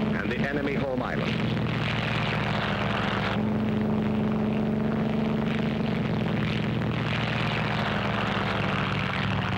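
WWII carrier-based aircraft engines drone loudly and continuously during an aerial assault on Kyushu, a sustained propeller roar with a shifting pitch that runs the whole time, with a narrator's voice audible over it.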